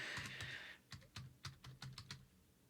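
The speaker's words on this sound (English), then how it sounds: "I'm not that good at the touch typing after all these years" Keys on a computer keyboard clack in an irregular run of separate taps, close and fairly quiet, with no voices.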